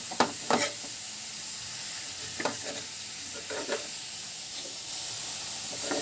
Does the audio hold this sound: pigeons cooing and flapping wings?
no